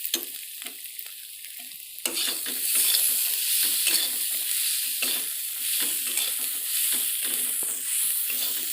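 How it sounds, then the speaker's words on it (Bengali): Ginger-garlic paste, ground on a grinding stone, sizzles and fries steadily in hot oil while a spatula stirs it with repeated scraping; after a brief quieter start the frying swells to a loud, continuous hiss. "ভালো করে ভেজে নেবে আদা রসুনটাকে"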